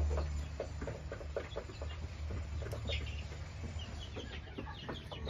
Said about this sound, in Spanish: Vamos a meter a este gallito a su jaula.